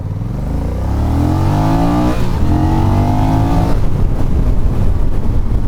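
A 2024 Honda Rebel 1100 motorcycle engine revs hard under acceleration, rising steadily in pitch through the gears with a loud, close, continuous roar and a brief shift dip midway, with no talking over it.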